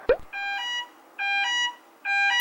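A loud phone alarm ringtone plays three repeating bursts of bright, layered electronic tones with short gaps between them, standing alone after a brief tap at the very start.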